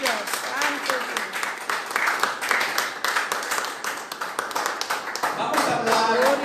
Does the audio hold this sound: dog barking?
no